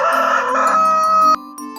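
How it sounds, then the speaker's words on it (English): A rooster crows once, loud and close, a long harmonic call with a rising then sustained note that cuts off sharply, leaving a quieter held tone. "chicken"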